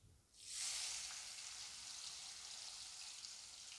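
Chopped tomato drops into hot oil seasoned with black cumin and sets off a sudden loud, bright sizzle. The sizzle stays steady and hissing after the first burst. It is close by and heard alone, with no voices.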